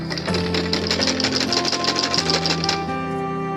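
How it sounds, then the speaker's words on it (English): A sewing machine stitches down a princess dart, its needle chattering in a fast, steady rhythm for a few seconds at close range, then slowing near the end. "I will use machine to sew it down"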